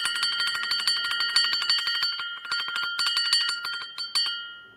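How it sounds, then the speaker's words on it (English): A bright, repeating electronic bell chime rings in rapid pulses for several seconds, steady and fairly close, with no voices over it. "Because that just made a bell."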